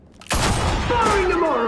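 Gunshot in Batman: The Telltale Series, a single loud sudden blast with a long ringing, reverberant tail and a rising tonal whine as it fades.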